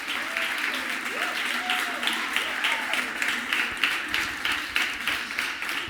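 Crowd applause greets a children's competition team on a playground stage, a continuous wash of clapping hands at moderate level, with faint voices mixed underneath.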